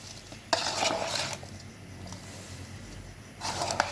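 Raw mango pickle being mixed with salt, turmeric and a ground paste: two short bursts of scraping, stirring noise near the start and end, with quieter rustling between.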